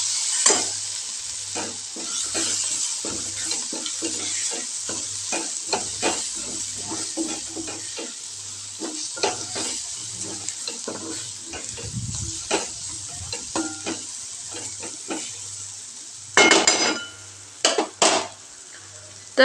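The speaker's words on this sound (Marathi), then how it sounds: "आणि आता ते व्यवस्थित हलवून घेऊया." Red byadgi chillies and spices are stirred in a frying pan, with a low sizzle under a long run of rhythmic spatula scrapes and taps against the metal, ending in a few louder clatters.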